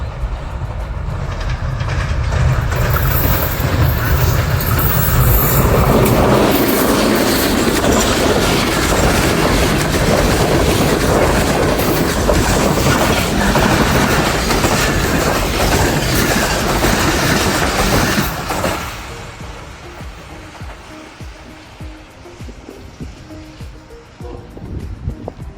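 Tezgam 8 Down passenger train, running Rawalpindi to Karachi, passes Sohawa railway station in Jhelum district, Pakistan: a loud, close roar of wagons with rhythmic clatter that holds for most of the stretch, then drops away abruptly to quieter ambience.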